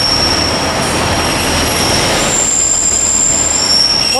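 A Class 142 Pacer train arriving at Liverpool Lime Street from Manchester Oxford Road rumbles loudly and close by, with a sustained high metallic wheel squeal over the steady rolling noise.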